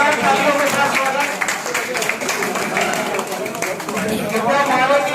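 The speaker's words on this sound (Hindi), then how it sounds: "जोरदार तालियों के साथ स्वागत।" Crowd applause at a Samajwadi Party office gathering welcoming a chief guest, dense sustained clapping mixed with chatter and voices throughout.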